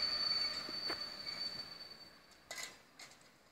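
A TLK Wydmy passenger train arrives at a station, its wheels giving a thin, sustained high squeal over a low rumble, moderately distant. A few soft clanks follow as it slows.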